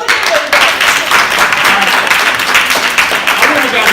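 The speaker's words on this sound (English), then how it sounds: "Give her a round of applause again." Loud, dense applause from the audience at a stage play, a continuous roar of clapping with possible cheering mixed in, lasting about four seconds.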